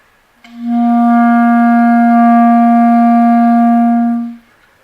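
A clarinet holds a single sustained C, clean and steady, for about four seconds before fading, played alone with no accompaniment.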